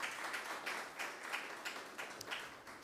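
Audience applause for youth parliamentarians at a mock sitting of the Nevis Island Assembly, a short stretch of steady, moderately distant clapping from a seated crowd.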